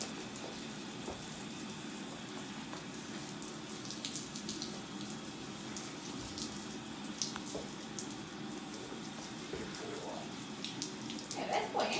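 Tap water runs steadily throughout while a dog is bathed and soaked, a continuous broadband splashing wash with no talk in the clip.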